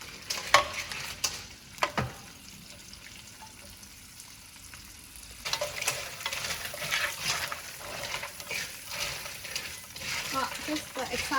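Ginger shallot crab, already fried once, tossed back into a hot wok and stir-fried, giving a loud steady sizzle with scraping and stirring bursts that swell after a quieter stretch.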